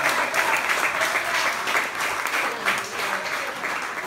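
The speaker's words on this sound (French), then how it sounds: "Somebody put your hands together for me." A church congregation applauds during a bilingual sermon, sustained dense clapping from many hands at an even, moderate level across the whole stretch.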